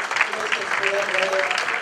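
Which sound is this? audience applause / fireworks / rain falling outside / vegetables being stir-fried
audience applause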